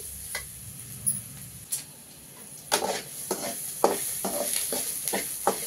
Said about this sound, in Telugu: అది నూనెలో వేగి బాగా కాగిపోద్దని లాస్ట్గా వేస్తున్నాను